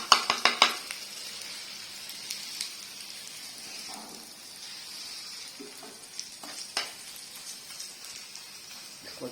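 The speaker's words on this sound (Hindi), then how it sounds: "इसको अच्छी तरह मिक्स करना बस आपने, ताकि अंडा मिर्च मसाला आपका ना बीच में अच्छे तरीके से वो हो जाए।" Egg with chili and spices is stirred in a frying pan, giving a soft sizzle under scattered clinks and scrapes of a utensil against the pan, with a few sharper knocks at the start.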